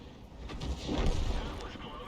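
An M53/M55 self-propelled artillery piece in a tank video game fires one heavy shot. The deep boom swells and rumbles away over about two seconds, with game voice chat present.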